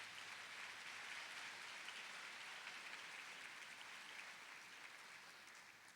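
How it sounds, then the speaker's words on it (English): Sustained applause from a large crowd at a high school commencement, steady and dense clapping throughout with no voices over it. "let's give all the people out there a nice round of applause from the students."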